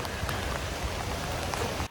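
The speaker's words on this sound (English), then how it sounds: "It's raining." Steady rain falling outdoors during a garden-center plant shopping trip, a dense, even patter of drops on surfaces that holds at a constant level through the whole short stretch.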